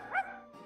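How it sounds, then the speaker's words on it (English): A dog in the video game Twisted Wonderland gives one short, yipping bark, brief and fairly faint over a soft musical background. "Is that a dog with a glowing nose?"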